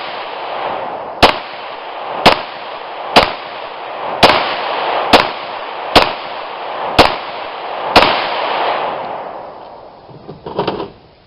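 A Glock 35 pistol firing with Lone Wolf 9mm/.40 S&W barrels: eight loud, sharp shots in an even rhythm about a second apart, then a short clatter.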